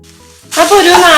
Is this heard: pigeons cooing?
no